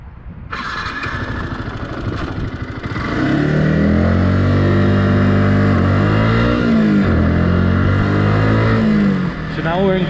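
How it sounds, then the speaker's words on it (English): Yamaha YZF-R125 motorcycle engine from a 2015 bike, heard close and loud as it revs, with its pitch rising and falling steadily through shifts over about ten seconds. "So now I'll just show you an example of downshifting."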